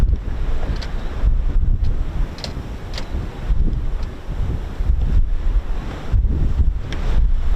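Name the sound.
strong easterly wind blowing, about 28 mph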